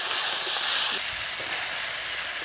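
Shrimp hit a hot pan for village-style bottle gourd and shrimp curry, setting off a loud, hissing sizzle that eases slightly after a second and keeps crackling steadily.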